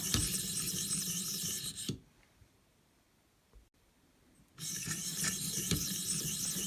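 An Ontario Rat 1 knife blade rasps against a ViperSharp sharpener in steady, close scraping strokes, then stops for a couple of seconds of near silence before the scraping resumes.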